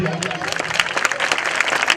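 An audience claps at a 2016-17 school annual function, with dense, crisp claps rippling continuously while voices carry on underneath.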